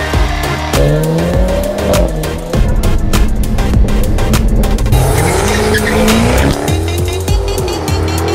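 A BMW X3 driven hard on a racing circuit during lapping sessions: a loud, continuous engine roar rises and falls through gear changes, with tires squealing and skidding through corners, close up and without speech.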